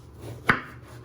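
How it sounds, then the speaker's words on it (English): A single sharp knife chop cuts a vegetable for ratatouille down the middle, one close, crisp thud on the board against a quiet kitchen background. "You want to chop it down the middle"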